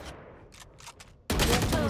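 Burst of rapid gunfire from the tactical shooter video game Valorant, loud and sustained after a quieter stretch with faint game sounds.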